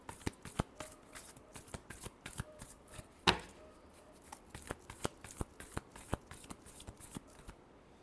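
Tarot cards being shuffled by hand during a love reading, a quick run of crisp riffling snaps and flicks with one louder slap midway, close and clear with no talking.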